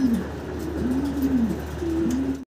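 Pigeons coo steadily at a fancy pigeon wholesale market, their low, wavering calls repeating in overlapping phrases over a constant background hum.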